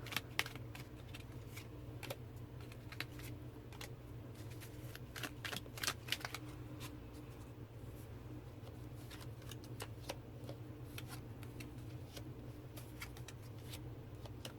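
Tarot Nova cards being shuffled and drawn, soft close rapid riffling and flicking with scattered sharp card snaps throughout, quiet and alone over a faint low hum.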